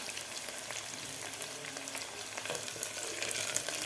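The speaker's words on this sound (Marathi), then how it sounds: "आता आपल्याला एक ते दीड मिनटासाठी शेंगदाणे कांदा आणि मिरची व्यवस्थित फ्राय करून घ्यायची आहे" Raw peanuts, onion and green chili fry together for khandeshi khichdi, making a fairly quiet, even crackling sizzle with small spitting pops throughout and no talking.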